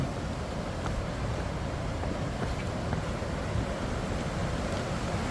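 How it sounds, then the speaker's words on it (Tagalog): Steady roar of surf at Nusa Penida, Bali, with a continuous broadband wash, waves rolling in and breaking nearby amid wind noise, no voices. "Lakas ng lagaslas ng hampas ng alon."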